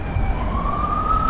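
Emergency vehicle siren on a Baltimore street, a steady rising wail sounding at a distance through a low rumble of traffic.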